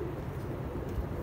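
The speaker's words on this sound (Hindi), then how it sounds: "ये बाहर का कुछ परिंदा है" An outdoor pigeon-like bird coos softly, a low murmuring call heard from a moderate distance over a steady background rumble, with no one speaking.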